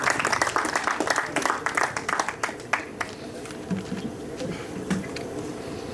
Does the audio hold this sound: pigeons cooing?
no